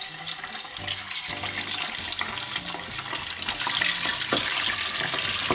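Seasoned pork belly for torresmo deep-frying in hot oil, a dense, loud, continuous sizzle and crackle that holds steady throughout with no voices.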